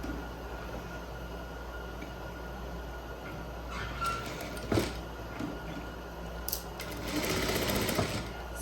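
A sewing machine stitches trousers with pleats, starting with a backstitch, as a steady mechanical whir with a few louder clacks and a rising burst near the end.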